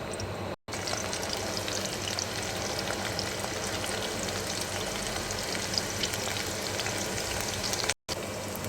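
Garlic frying in oil until golden gives a steady, dense sizzle with a soft crackle throughout. It stays loud and even, with two very brief dropouts and no talking.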